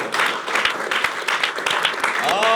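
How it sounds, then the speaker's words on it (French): A TV talk show studio audience applauds in a brief, moderately loud burst of clapping, with close individual claps standing out from the crowd and a voice starting at the very end. "On peut l'applaudir."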